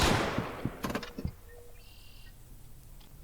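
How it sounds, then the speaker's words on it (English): A quick volley of sharp gunshot cracks, about five loud bangs in the first second, then a quieter stretch with a faint tone. "Sorry, gunshots."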